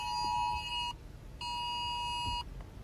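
A phone sounds a tornado warning alert in two long, steady, shrill electronic tones separated by a short gap, heard outdoors over low wind rumble.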